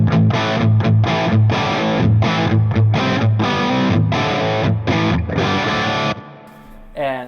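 Heavily distorted electric guitar played through a Super Distortion humbucker pickup in a Marshall-style tone, loud dense chords in a choppy rhythm with short gaps, ringing out and fading near the end.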